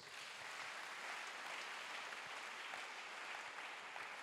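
Church congregation applauding during a French-language sermon, a continuous, even wash of many hands clapping, heard faintly from a distance.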